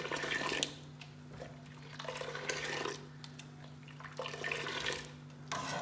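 Water poured and whisked into Kashmiri pink tea, a soft splashing and sloshing in bursts over a low steady hum, faint and alone.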